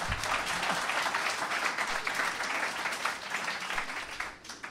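An audience applauds a burgomaster in a warm, continuous burst of clapping that stays full for a few seconds before dipping near the end, with no voices over it.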